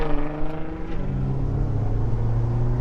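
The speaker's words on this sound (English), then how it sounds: "This is evidence that I'm driving the GT-R." Nissan GT-R being driven, a steady low engine rumble and road drone heard from inside the car, with engine tone rising gradually, fairly loud and with no talk.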